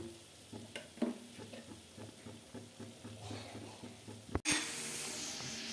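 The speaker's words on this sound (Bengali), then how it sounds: "ভালো করে নেড়ে চেড়ে দিয়ে ঢাকা দিয়ে দেবো" Greens, potato and eggplant frying in a pan for a fish curry, stirred with a spatula in a run of soft scraping strokes over a low sizzle, then a sudden loud burst of hissing steam near the end.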